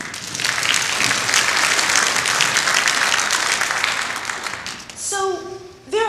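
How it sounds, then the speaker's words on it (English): An audience at a 2015 MLK Day ceremony breaks into sustained, dense applause that fills most of the moment, fading before a voice speaks near the end. "Can you give yourself a round of applause?"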